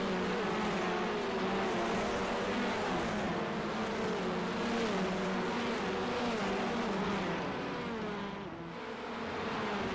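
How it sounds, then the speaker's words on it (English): A full grid of 46 race cars launches at the start of a sim race on the Brands Hatch Indy circuit, a dense, continuous roar of many engines revving together at high volume. "that is all 46 cars, and they're all starting at Brands Hatch now"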